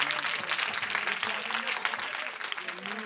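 Concert audience applauding a drummer at a private show, a lively patter of clapping from a small crowd with cheering and voices mixed in, moderately close.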